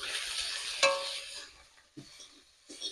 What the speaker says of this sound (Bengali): এবার দিয়ে দেবো লঙ্কা গুঁড়ো, দিয়ে দেবো হলুদ গুঁড়ো, দিয়ে দেবো জিরে গুঁড়ো।